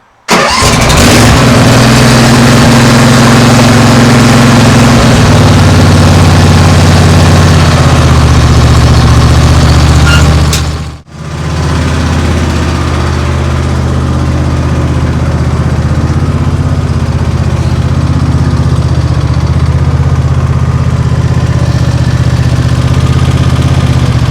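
A Husqvarna ride-on tractor's engine roars steadily up close, drops out abruptly for a moment, then picks back up into a loud, rough, continuous run.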